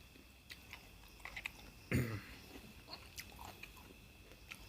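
Crisp cucumber is bitten with one loud crunch, followed by soft, quiet chewing clicks nearby.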